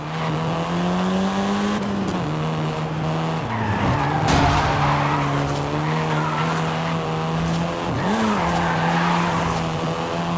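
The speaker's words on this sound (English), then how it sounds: "This version is the Volkswagen Golf R, R meaning race." A Volkswagen Golf R in Forza Horizon 5 drives hard, with a loud steady engine drone, tire squeals and skids, and pitch dips as it shifts and corners.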